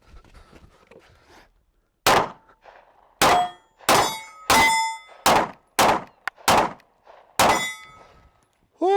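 Pistol shots ring out one after another during a shooting drill on steel targets, about nine sharp loud cracks at irregular spacing, several followed by a metallic clang as steel is hit.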